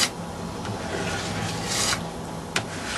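A plastic scraper drags excess wax off a snowboard base, giving a steady, close, grainy rasping with a couple of brief sharper scrapes, heard alone without talk.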